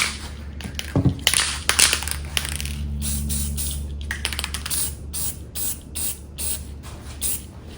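Spray paint is sprayed in coats onto a Canik TP9 pistol, long hissing bursts close by, separated by short pauses and can clicks, with a low background hum.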